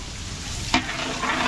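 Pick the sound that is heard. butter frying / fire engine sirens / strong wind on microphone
butter frying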